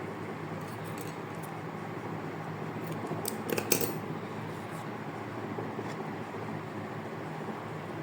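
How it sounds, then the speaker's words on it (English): Scissors snip yarn once or twice in quick succession during crocheting of a frog mug cozy, a faint, brief close metallic cut against a steady background hiss. "cut the yarn"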